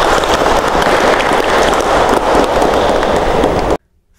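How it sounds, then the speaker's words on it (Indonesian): Loud, dense applause from an audience at an Indonesian university Ramadan health talk, steady for nearly four seconds before cutting off abruptly into silence. "Kita jeda sebentar dan kita tepuk tangan untuk mereka berdua."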